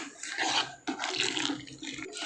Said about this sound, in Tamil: இப்போ கொதிக்க வச்ச தண்ணியை கொஞ்சம் கொஞ்சமாக விட்டு இதில் கலந்து விட்டுடலாம்.